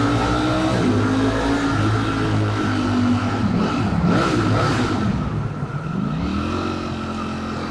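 A Ducati Streetfighter V4S motorcycle engine revs hard inside a tunnel, its loud continuous roar rising and falling through several throttle swells with reverberant echo and no talk.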